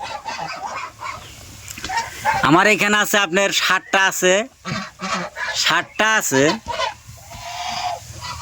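Ducks honk and quack in loud, repeated bursts nearby, mixed with a person talking.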